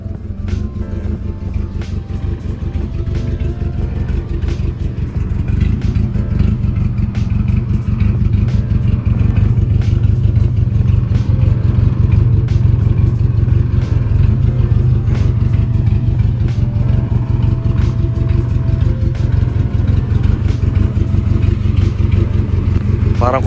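A Toyota 4K engine, resembling one fitted with a muffler, idles and revs steadily with a deep, rumbling low drone that swells slightly, close and continuous for the whole stretch without any talk.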